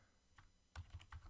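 Quiet typing on a computer keyboard, a short run of soft, close key clicks in an irregular rhythm with no voices.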